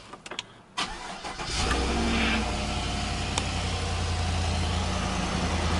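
A large SUV's engine cranks briefly then catches and settles into a steady, loud close-up idle, with no talking over it.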